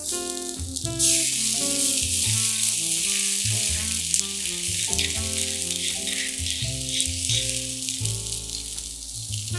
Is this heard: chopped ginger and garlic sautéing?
yes